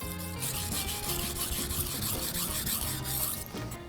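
Knife being sharpened on a whetstone: steady, close back-and-forth grinding strokes in an even rhythm, quiet but continuous, with no talking.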